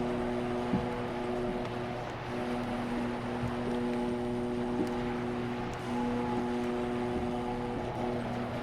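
A sailing vessel moving through water in the video game Unto the Aurora, a low, steady droning engine-like hum with sustained tones and a faint rushing wash, continuous and fairly quiet.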